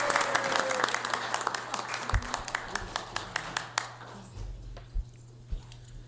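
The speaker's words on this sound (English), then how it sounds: "Let's give a round of applause for Isabella for helping us" Applause at a city council meeting, a burst of clapping that thins out into a few scattered individual claps after about four seconds, with faint voices underneath.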